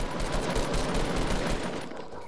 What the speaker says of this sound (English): Keep shooting, now everyone's shooting.